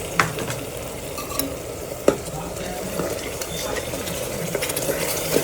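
Tomato puree stirred into a frying prawn masala, a continuous close sizzle and bubbling with occasional sharp spoon knocks against the pan.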